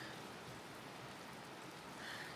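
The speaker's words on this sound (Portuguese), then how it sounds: "eu tava pronta pra correr e começou a chover." Early-morning rain falls steadily, a soft, continuous hiss of drops on surfaces with no voices over it.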